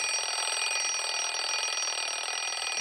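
A portable radio's built-in alarm clock rings as a loud, continuous electronic buzz, steady and close, with no voices.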